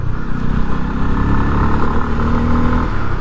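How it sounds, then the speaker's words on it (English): A Bajaj Pulsar 250 motorcycle engine revs and pulls strongly, loud and close, its pitch climbing steadily as it accelerates. "Very well tuned engine."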